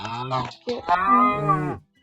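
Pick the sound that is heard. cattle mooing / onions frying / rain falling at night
cattle mooing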